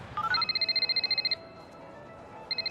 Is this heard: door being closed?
no